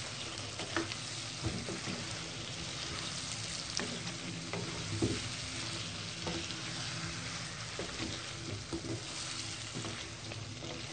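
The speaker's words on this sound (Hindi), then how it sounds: "आलूओं को भी हम अच्छे तरीके से भून लेंगे।" Potatoes and chicken frying in a pan for achar gosht, a steady low sizzle with occasional stirring scrapes and clicks, fairly quiet and continuous, with no voices.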